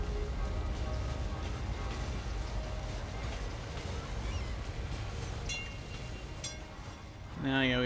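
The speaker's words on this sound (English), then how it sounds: "And it's raining." Steady rain falls in a Cities: Skylines city-builder game, a continuous broadband hiss that fills the whole stretch, with a brief brighter tonal sound rising near the end.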